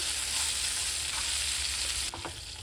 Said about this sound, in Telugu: చూడండి ఫ్రెండ్స్ చక్కగా ఫ్రై అయ్యాయి